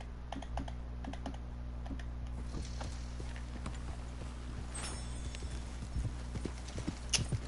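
Horse hooves clip-clop steadily in Red Dead Redemption 2, a continuous rhythmic trot of sharp knocks at moderate loudness over a low in-game ambient hum.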